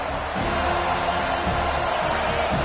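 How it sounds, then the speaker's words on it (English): A football stadium crowd at a Florida State versus NC State game roars steadily to back its defense, a dense, continuous wall of cheering and noise with no clear breaks. "Listen to this crowd just shaking the girders of this place trying to help their defense."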